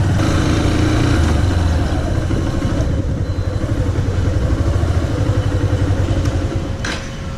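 A KTM RC200 motorcycle, 2017 or 2018 version, idles steadily close by, its engine drone loud and continuous throughout with a slight clatter and no talking.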